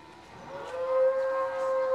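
A dairy cow on a Tangail farm lets out one long, loud, steady moo, close by, with no talk over it.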